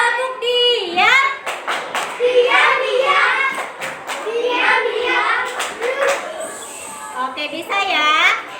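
Children in a classroom do a clap game ('tepuk diam'), chanting together in sung phrases while rhythmic hand claps punctuate the voices, close and lively throughout.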